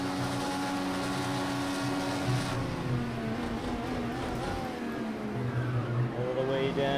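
An IndyCar engine on the Circuit of the Americas track in Project CARS 2 whines steadily, its pitch rising and falling through gear shifts, with someone speaking over the engine noise.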